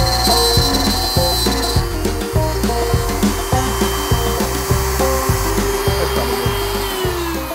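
A router bit spins on a router table, cutting the flange recess of a Gibson-style banjo neck. A loud, steady high motor whine is broken by rhythmic, repeated bursts of cutting as the wood is fed through.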